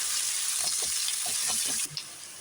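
Medium-cut onions fry in a pan for a Kadappa gravy, a loud dense hissing sizzle with faint stirring knocks underneath that abruptly drops to a quieter crackle near the end, heard close with no voices.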